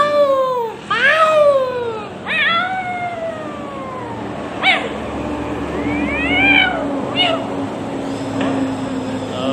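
Several cat meows rise and fall in a drawn-out, caterwauling way, one after another over about ten seconds, with a low steady hum underneath.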